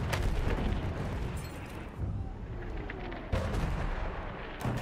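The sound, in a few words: field cannon artillery fire in video game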